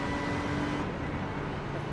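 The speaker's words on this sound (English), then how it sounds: "let me know if the car noises are too loud" Low, steady rumble of car traffic passing nearby, a continuous road noise with no talking.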